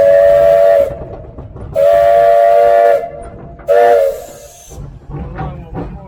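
Steam locomotive whistle blown for a level crossing: two long blasts and a shorter one, loud and close, each followed by a hissing pause, with faint talk near the end.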